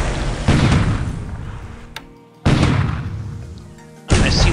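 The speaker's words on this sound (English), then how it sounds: "And here comes that bombardment I talked about at Pearl." Naval bombardment explosions strike Pearl Harbor in a World War II strategy game, three heavy booms each decaying into a rumbling tail, loud and close, with no talk.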